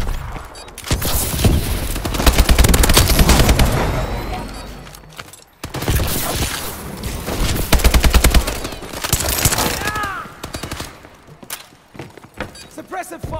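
Rapid automatic gunfire in the video game Call of Duty: Advanced Warfare during a Domination match, with loud sustained bursts, scattered single shots and booms, and game voice callouts cutting in between volleys.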